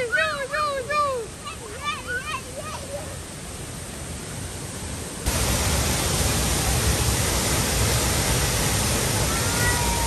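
Glencar Waterfall in Ireland roars as a powerful broadband rush of falling water, with birdsong audible over it at first before the torrent grows louder and fills everything.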